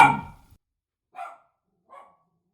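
A house dog at home gives one sharp bark followed by two shorter, fainter yips spaced about a second apart, with quiet in between.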